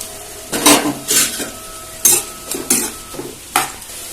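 A spoon scrapes and clinks around a pot of Konaseema-style fish curry in several separate bursts, close and crisp, with a faint sizzle underneath between strokes.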